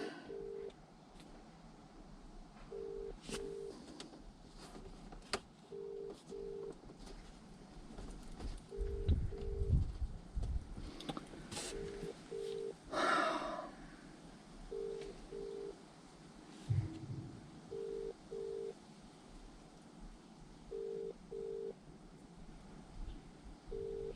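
A phone call to a landlord gives a steady run of paired electronic ringback tones repeating evenly in the background, with a few scattered knocks and handling noises.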